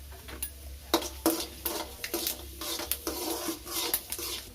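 Urad dal frying in hot oil with mustard seeds, stirred in a pan, gives off a soft sizzle under repeated scraping and clinking of a spoon against the metal pan at close range.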